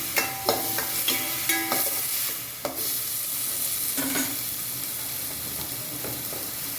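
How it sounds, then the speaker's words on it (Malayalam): Onion, chili and tomato sauté in a pan with a soft steady sizzle, broken early on by several sharp clacks of a spoon stirring against the pan, then settling into gentle frying. "ഉള്ളി ഇട്ടിട്ട് ആദ്യം ഉള്ളി, കുറച്ച് മുളക്, പിന്നെ തക്കാളി ഇട്ടിട്ട് നന്നായി വഴറ്റുണ്ട്"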